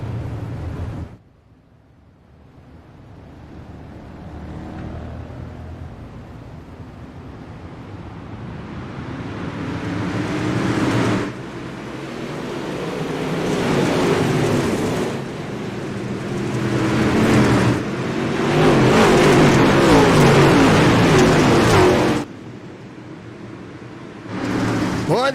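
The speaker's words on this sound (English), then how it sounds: "listen to the rumble of the engines" Dirt race truck engines rumble at Cedar Lake, a loud sustained roar that swells and fades as the trucks pass, with a commentator talking over it.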